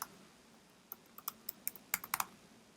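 Quiet typing on a computer keyboard: about a dozen sharp, close key clicks in quick bursts, speeding up toward the end, with no voices.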